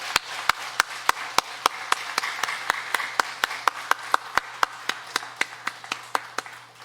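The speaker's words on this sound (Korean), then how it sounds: "힘찬 박수로 주께 영혼 돌리겠습니다" A church congregation at a Sunday worship service claps in rhythm. Sharp claps fall at a fast, steady, even beat and ring slightly in the hall over a low background hum.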